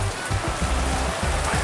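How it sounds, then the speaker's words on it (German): Light rain falling outdoors in Rüdesheim after a parade, a steady soft patter with low rumbling wind or handling noise underneath, no voices. "Das regnet ein bisschen."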